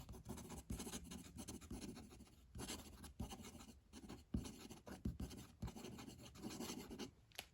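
A Lamy Safari fountain pen scratches quickly across paper in short, rapid strokes, with brief pauses between words, close and quiet with no voices.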